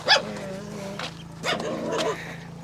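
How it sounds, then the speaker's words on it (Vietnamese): Dogs at a home in a mountain village bark and yip in short bursts, several sharp calls spread over a couple of seconds with a steady low hum beneath. "Cái mấy bé chó nó sủa"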